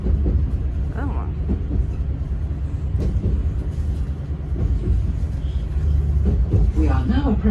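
A train pulls into Great Yarmouth station, where the line terminates, with a loud low rumble and clatter of the coaches throughout and people talking nearby over it.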